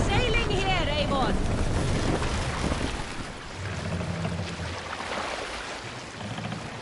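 A sailing ship at sea in Assassin's Creed Valhalla: rushing wind and water wash around the vessel, with voices calling out at the start.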